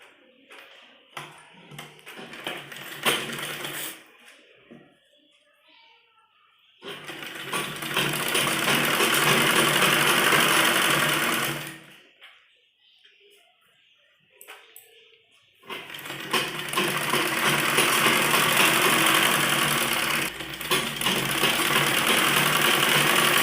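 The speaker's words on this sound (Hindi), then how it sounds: "जो हमारा मेन फैब्रिक है इस पर सिलाई लगाएंगे" A sewing machine stitches the main fabric of a baby frock in two long, steady mechanical runs, separated by quieter stretches of fabric handling and small clicks.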